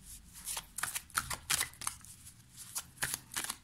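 Tarot cards are shuffled for a reading in quick, soft riffling bursts with brief pauses, quiet and close with no talking.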